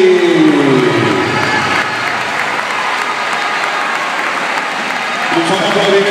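At the awards of a youth mini basketball tournament in a Granollers gym, a crowd bursts into loud, sustained applause that fills the hall. An announcer's voice is briefly heard at the start.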